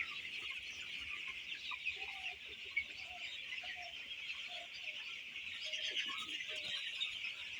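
Seventeen-day-old broiler chickens cluck softly in a poultry shed, short scattered calls over a constant high-pitched background hiss, with no talking.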